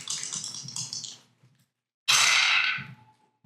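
Dice rolling across a table during a Dungeons & Dragons game: a short clattering rattle, a pause, then a louder, brighter tumble that rattles and settles, close by with no talk over it.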